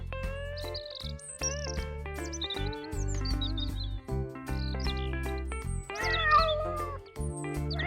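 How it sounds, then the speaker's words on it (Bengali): Cats meow repeatedly in a room, several overlapping cries close by, some drawn out and some short, with no talking. "বল্টু, স্যারের ঘরের মধ্যে থেকে কিরকম আওয়াজ আসছে, শুনতে পাচ্ছিস? স্যারের ঘরে তো কোনোদিন বেড়াল দেখিনি।"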